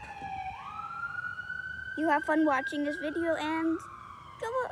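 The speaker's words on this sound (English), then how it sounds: "Sorry about the ambulance in the background." An ambulance siren wails outdoors in a natural setting, a steady rising then held tone running through the whole stretch while a voice talks over it in the foreground.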